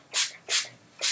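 Three short bursts of hair product spray, each a quick bright hiss with brief gaps between, close by and fairly loud, no voices.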